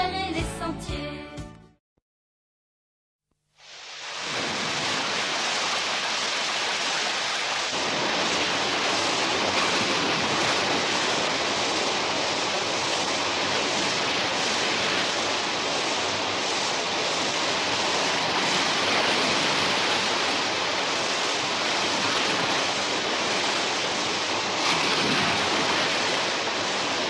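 Steady, dense rainfall hisses continuously after a brief silence, a broad wash of sound with no voices.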